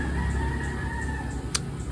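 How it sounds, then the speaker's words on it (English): A rooster crows once, clear and a little distant, over a low steady rural background near a hot pepper garden. "roosters"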